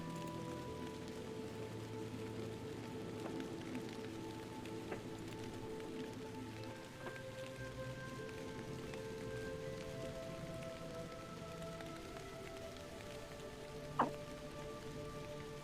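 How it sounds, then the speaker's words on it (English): Hard, steady rain pours without a break, a dense even hiss of drops on surfaces, with a faint hum of background tones under it and one brief sharp knock near the end, played as ambience for a Pathfinder tabletop session. "It's just a hard, long rain."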